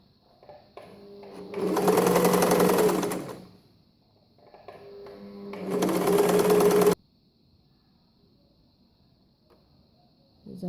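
Empisal sewing machine stitching with a twin needle through medium-weight fabric: two loud, steady whirring runs of about two and three seconds, each ramping up and stopping, then quiet.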